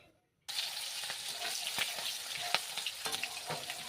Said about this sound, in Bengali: জিরা দারচিনি লবঙ্গ এলাচ কাঁচা লঙ্কা তো আমি এটা সম্পূর্ণ এখন তেলে দিয়ে দেবো